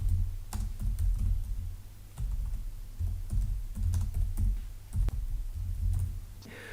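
Python code typed on a computer keyboard, a close run of quick, uneven key clicks with irregular pauses and no talk over them.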